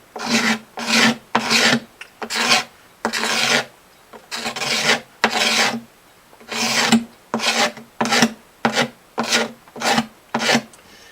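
A razor blade scrapes dried super glue level over a crack in a guitar's wooden top, in about fifteen close, rasping strokes, each short and roughly evenly spaced, with no talking.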